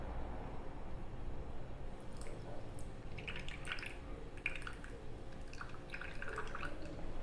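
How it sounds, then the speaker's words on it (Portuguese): Salted brine drained off cucumbers being prepared for an oriental-style pickle, heard as soft intermittent drips and trickles of liquid over a steady low background hum, fairly faint and close. "aí a gente escorre essa água"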